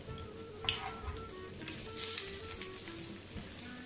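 Aloo tikki patties sizzle and fry in hot oil in a pan, a steady close crackle with a few brighter spits and pops, and no voices.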